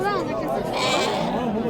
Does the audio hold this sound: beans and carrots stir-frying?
no